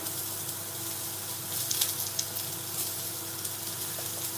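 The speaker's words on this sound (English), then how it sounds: "Spring onion is the best thing to put in first, because let them sweat." Spring onions sweat in a hot pan, giving a steady, close sizzle with faint crackles and the occasional light scrape of a spoon.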